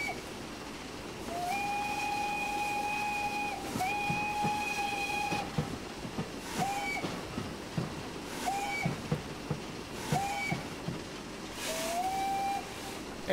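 A video game steam locomotive whistle, a simulated Nickel Plate Road locomotive, blows in long and short two-tone blasts over a hissing, rumbling background, the blasts repeating in a loose rhythm.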